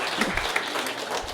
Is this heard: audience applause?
yes